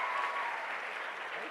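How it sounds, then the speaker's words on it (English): An audience at a talk-show style event claps together, a steady dense patter of many hands that stays even and fairly soft for a brief stretch. "You can all clap also."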